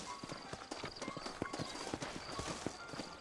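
Horse hooves clip-clop in a brisk, steady rhythm in Red Dead Redemption, set in a frontier town in New Ulster, the hoofbeats close but fairly quiet and heard without talk.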